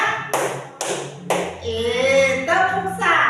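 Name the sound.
rhythmic hand clapping in three counts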